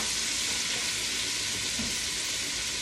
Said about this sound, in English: I'm going to add a little bit of oil because I want this to fry a little bit, but I want the flavor of the butter.